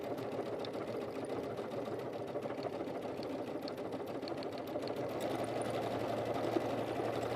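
A serger sewing machine stitching fabric around in a circle, running continuously with a dense, fast mechanical hum and rapid needle chatter, close and steady throughout.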